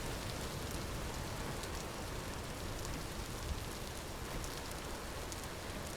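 Steady rain falls in the Vintage Story video game world, a dense, even hiss of drops with no pauses or talking across the whole stretch.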